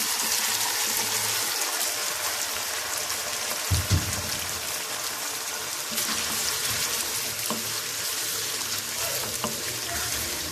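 Chicken pieces frying in hot oil in a karahi, cooked after ginger-garlic paste for a restaurant-style black pepper chicken karahi: a steady, close sizzle and crackle throughout, with one brief louder spit or clatter partway through.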